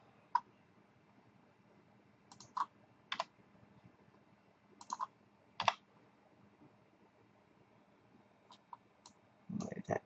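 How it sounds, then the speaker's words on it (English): Computer mouse clicks while right-click dragging, heard as sparse sharp clicks in small bursts, close and fairly quiet, with a denser flurry at the end and no talking. "All I'm doing is right clicking and dragging at the same time to get a duplicate."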